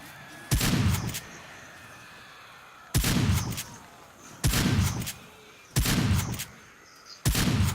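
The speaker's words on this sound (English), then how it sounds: "My shotgun does not reach that range, apparently" Shotgun blasts from 7 Days To Die, five loud, heavy booms spaced a couple of seconds apart, each with a short rumbling tail over a quiet background.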